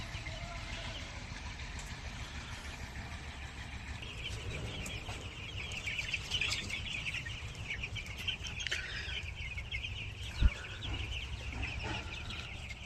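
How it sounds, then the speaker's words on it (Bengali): A flock of Tiger-breed chicks in a rooftop shed peep and cluck continuously in a busy, constant chorus, with one brief thump partway through. "ও জায়গাতে আমি মুরগিগুলো পালতেছি"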